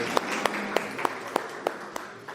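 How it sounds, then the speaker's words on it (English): A conference audience applauds as a guest is invited on stage, with evenly spaced, distinct claps standing out over a steady bed of clapping. "if we can give him a round of applause"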